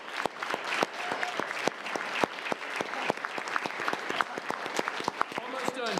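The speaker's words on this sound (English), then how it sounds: "big round of applause" A crowd at a city commission meeting gives a round of applause, steady dense clapping with sharp individual claps standing out throughout, fairly close and sustained.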